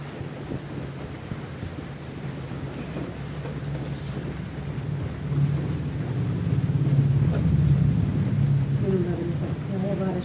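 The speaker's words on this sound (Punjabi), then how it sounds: "ਸਾਡੇ ਇੱਥੇ ਬਾਰਿਸ਼ ਬਹੁਤ ਪੈ ਰਹੀ ਹੈ" A heavy downpour roars steadily and evenly as thunder rumbles low underneath, and the storm swells louder about halfway through.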